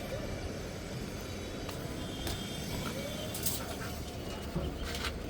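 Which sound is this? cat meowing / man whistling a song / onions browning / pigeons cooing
pigeons cooing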